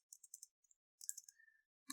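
Typing on a computer keyboard, quiet sparse keystroke clicks in short irregular bursts with brief pauses, close and faint.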